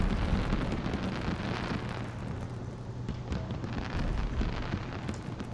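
Fireworks streak and burst in the EVE space game, a dense rumbling roar with scattered crackling pops and booms layered throughout, steady and loud with no voices.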